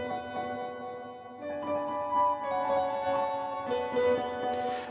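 Offbeat keys pattern in a trap beat, with sustained synth chords shifting on off-beat steps over a soft rhythmic bed, playing alone without voices at moderate level.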